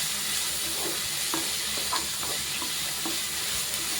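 Ponnanganni greens sauté in a pan with a steady, close sizzle and hiss, broken by light scraping stirs of a spoon against the metal.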